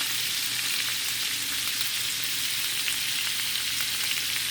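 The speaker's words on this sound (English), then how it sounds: "The tofu, rice, and veggies is looking good. Let it keep cooking." Tofu, rice and vegetables fry in a pan with a steady, dense sizzle that holds close and even throughout, with no voices.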